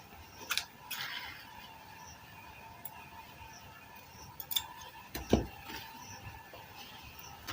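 Scissors snipping notches into fabric for a kaftan gown: a few quiet, sharp clicks spaced out over a faint background hum, with a clearer snip near the middle.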